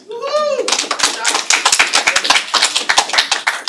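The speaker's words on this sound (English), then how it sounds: "please keep the clapping going" Audience applause at a New York City Housing Authority board meeting, a burst of dense hand clapping that swells after a short voiced cry and carries on loudly and steadily to the end.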